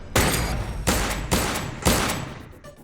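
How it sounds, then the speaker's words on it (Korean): Four loud gunshots from an armed, masked robber fire one after another about half a second apart, each sharp crack trailing off into a ringing echo, with no talk. "총소리가 몇 번 더 이어졌어."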